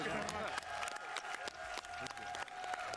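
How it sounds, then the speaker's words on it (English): Applause from an audience at the London X019 Xbox event, scattered clapping with a murmur of voices and chatter mixed in, fairly faint. "Can we give everyone a round of applause?"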